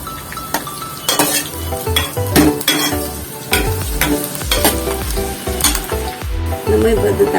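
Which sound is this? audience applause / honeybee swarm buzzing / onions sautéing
onions sautéing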